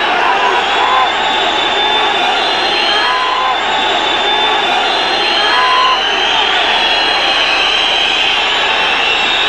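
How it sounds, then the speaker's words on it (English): A rugby stadium crowd during a European Cup match sends up sustained whistling and roaring, a continuous wash of noise with shrill whistle tones drifting over it, while a commentator talks over the top. "The whistling from the crowd"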